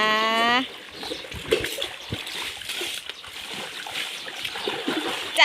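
Water splashes and trickles as an animal swims and dives in a private mud pool at a mud spa, with a steady wet sloshing throughout; a short high-pitched call opens the sequence.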